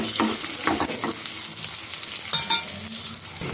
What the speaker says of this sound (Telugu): ఇప్పుడు అదే బాణలో ఆయిల్ వేసుకుని జీలకర్ర, ధనియాలు ఫ్రై చేసుకుందాం.